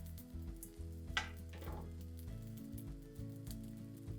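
Bread and raisins fry in butter in a pan with a soft, steady sizzle, while a low, rhythmic mechanical hum runs underneath and a few brief scraping bursts come through.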